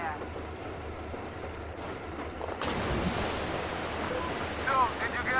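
A rail car rumbling along in the game Metro Exodus, a low steady roar that swells in partway through and builds into a loud, noisy rush of movement, with faint chirping tones near the end.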